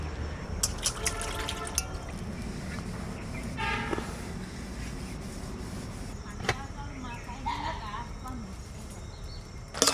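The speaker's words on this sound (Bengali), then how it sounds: "জলটা শুকিয়ে গেছে একটা চরচর করে একটা আওয়াজ পাওয়া যাচ্ছে" A pot of rice cooked with fish crackles and sizzles steadily as its water boils away, a continuous close hiss with scattered pops, while people talk over it.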